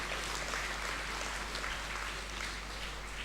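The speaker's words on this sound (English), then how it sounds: "I think he deserves a huge round of applause." Audience clapping at a centenary investiture ceremony, a soft, steady, even patter of many hands heard from some distance across a large room, with a constant low hum beneath it.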